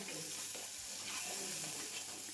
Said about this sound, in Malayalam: നന്നായിട്ടൊന്ന് ഇളക്കി കൊടുക്കട്ടെ നമ്മൾ തക്കാളിൻ്റെ ആ പച്ചമണമൊക്കെ മാറുന്നത് വരെ നന്നായിട്ടൊന്ന് ഇളക്കി കൊടുക്കാം